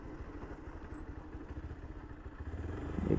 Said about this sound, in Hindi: आज नीचे ही लेंगे हम बाइक।